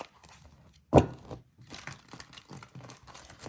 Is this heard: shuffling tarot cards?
yes